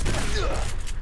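Gunfire from the survival video game Subsistence: a short, dense burst of shots over a steady game background, with a voice faintly underneath.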